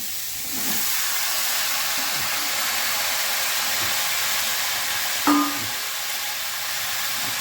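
Mixed vegetables for a home-style vegetable curry hit a hot pan and sizzle in a loud, steady hiss, with a single sharp clank partway through and no voices.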